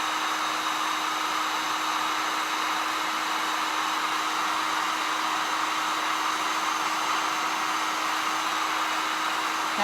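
A heat tool blows hot air steadily on a small craft blank, a constant loud whooshing drone with a fixed whine that does not change for the whole stretch.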